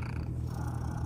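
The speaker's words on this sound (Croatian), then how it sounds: "Pogledaj, prede otvorenim ustima, vidi ovako." Cat purring steadily and continuously at close range, a low rumble with no voices over it.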